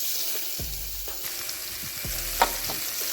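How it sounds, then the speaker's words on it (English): Yellow onions sauté in garlic butter with a steady broadband sizzle, broken by a few scraping stirs and a sharp clink near the end, close up with no voices. "So I've added my onions. I'm just going to saute this"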